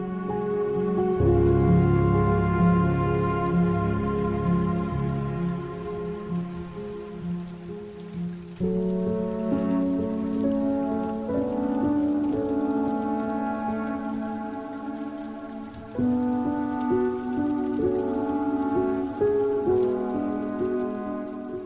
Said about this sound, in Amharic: ውሽንፍር አዘል የነበረው ዝናብ ጋብ ማለት ጀምሯል።